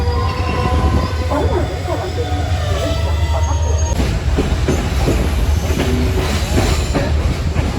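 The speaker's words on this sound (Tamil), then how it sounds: "ட்ரெயின் வந்து இப்படியே மருதான ஸ்டேஷன்லேருந்து கொழம்பு கோட்டை ரயில்வே ஸ்டேஷனுக்கு போய் கொண்டு இருக்குது" Passenger train running between Maradana and Colombo Fort stations, heard from on board as a loud steady rumble of wheels and carriages with rhythmic clacking and occasional squeal throughout.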